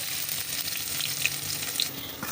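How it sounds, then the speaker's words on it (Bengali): Onions frying in a pan for a river fish dish, a steady broadband sizzle with faint crackles and pops throughout, close and continuous with no talking. "পেঁয়াজটা কিন্তু আমার খুব সুন্দর করে লাল লাল হয়ে ভাজা হয়"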